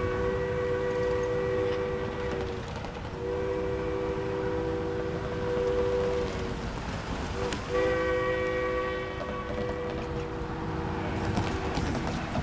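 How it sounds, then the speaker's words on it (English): Train number 473 arrives with long, loud horn blasts, two sustained calls separated by a short gap, over a steady heavy rumble of the approaching cars. "473, the train's coming in now."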